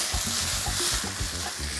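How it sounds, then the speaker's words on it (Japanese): Sliced brown mushrooms stir-fry in a frying pan with a loud, continuous sizzle and bursts of spatula scraping, up close and without any voices. "スライスして切ったブラウンマッシュルームはフライパンに移して、また軽く炒めていくと"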